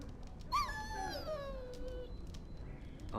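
A dog in the video game Dragon Age Origins gives a pitched whimper that slides downward into a long, drawn-out whine, moderately close over steady background ambience.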